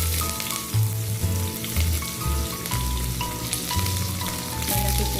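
Onion frying in oil in a kawali, a loud close crackling sizzle that stays dense throughout, with some background tones beneath it; no speech.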